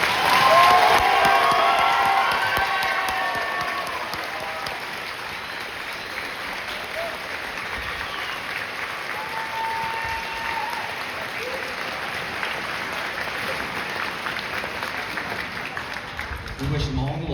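Audience applause at a school district music announcement honoring piccolo section students, a dense burst of clapping and some cheering that swells at the start, then gradually thins and fades.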